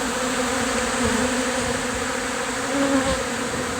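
Many honeybees on a hive frame buzz in a steady, dense drone up close, with the pitch wavering slightly as the swarm moves.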